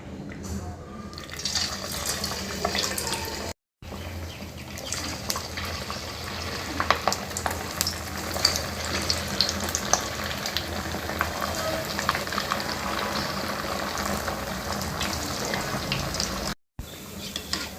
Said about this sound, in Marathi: आता आपण त्यात एक एक साबुदाणा वडा सोडून घेऊया